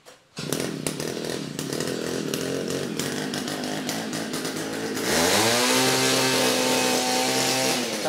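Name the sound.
engine-powered 200 mm drill bit being tried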